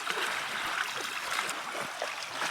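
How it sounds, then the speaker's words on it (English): Waterfall running down a slope on a volcano, heard from a lakeshore beach on a kayak camping trip in grizzly country; a steady, distant broadband rush of falling water, even and continuous with no talk. "Waterfall running down it."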